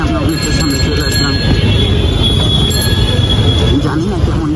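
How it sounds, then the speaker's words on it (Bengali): A metro train passes on its rails nearby, a loud, continuous rumble with squealing wheels and metallic ringing that stays strong throughout while a voice talks over it. "ওই যে গাইস মেট্রো দেখা যাচ্ছে, আমরা মেট্রোর সামনে চলে আসলাম।"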